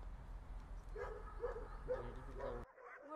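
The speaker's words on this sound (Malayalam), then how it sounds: "നായി വരുന്നുണ്ട്" A dog at Sabaduri forest zoo in Georgia gives four short, evenly spaced yelping barks at close range, quiet overall, before the sound cuts off abruptly.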